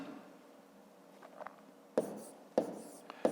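Numbers are written by hand during a fifth-grade maths exercise, with quiet faint scratching at first, then three distinct sharp pen or chalk strokes, close and otherwise silent.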